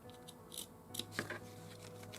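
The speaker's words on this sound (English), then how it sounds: "And then get your scissors in there and continue cutting along that line." Scissors snip through pillow fabric in a quiet room, a handful of short, crisp cuts at irregular intervals, close and fairly soft.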